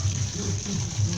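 Rain falling on a Monday morning in northeastern Brazil, a soft steady wash of water with gentle low gurgling, constant and fairly quiet throughout.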